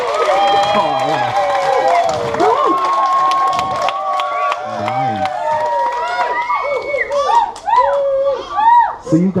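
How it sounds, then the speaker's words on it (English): A lively audience of children and adults at a school show, clapping, cheering and screaming together in a loud, sustained burst, with excited shouts rising over the din and a voice talking through it. "you guys already know how to clap, how to cheer, how to scream, all at the same time"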